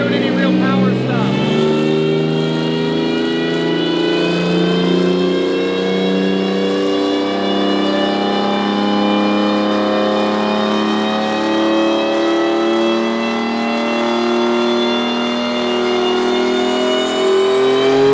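A turbocharged six-cylinder Subaru WRX STI engine, under tuning for idle and drivability, runs close and loud with a steady harmonic drone that rises and falls in revs throughout.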